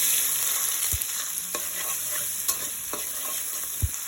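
Dried chilli, chopped onion, garlic and green chilli sizzle steadily in hot oil in a pan, with a constant bright hiss broken by a few sharp scrapes and taps of a spoon as they are stirred.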